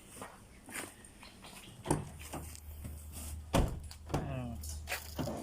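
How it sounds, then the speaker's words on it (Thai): The door of a 2011 Mazda2 fitted with a new rubber door seal shuts with a single solid, muffled thump, heard close amid light background noise and people talking. "เดี๋ยวลองปิดประตูดูครับพี่"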